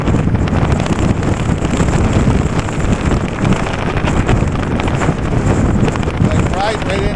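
A strong headwind buffets the microphone of a Wooken e-bike rider in bad weather, making a loud, continuous roaring rumble with no letup.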